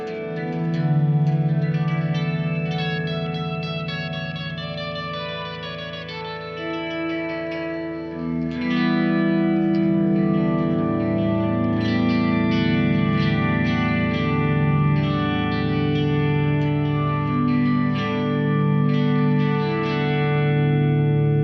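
An electric double-neck guitar, played on its six-string neck, rings out sustained chords and notes with a shimmering, effects-laden tone and heavy reverb, playing alone.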